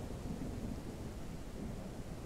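Rain falls steadily in a video game thunderstorm, with low thunder rumbling beneath it as a continuous, even wash of noise and no talk.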